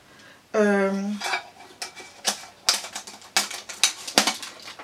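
Pyrex glass cookware and lids are handled, giving a brief ringing clink followed by a run of sharp clatters and taps of glass on glass and hard surfaces at close range.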